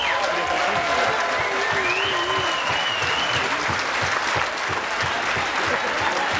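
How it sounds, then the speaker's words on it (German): Loud, dense applause from festival guests in a packed beer tent, sustained throughout with cheering voices and whistles riding over the clapping. "Ich möchte echt jetzt mal alle Gäste bitten, einen richtig geilen Applaus für unsere Mitarbeiter."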